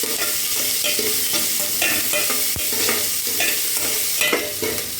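Onions frying in a pan for spinach kulambu, a constant close sizzle with repeated scraping stirs and a sharp spoon knock partway through.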